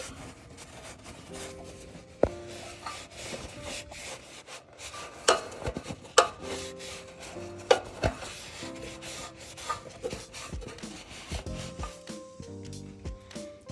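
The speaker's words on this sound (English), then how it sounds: "And I'm gonna wipe everything down." Cloth rubbing and wiping over a pressure washer's surfaces after an oil change: close, repeated scrubbing strokes with a few sharp knocks, set against steady tonal background music.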